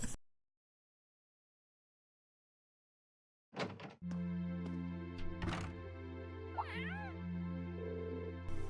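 A cat meows faintly indoors, with a rising, wavering call that seems to come from another room, over a steady low hum and a few thumps.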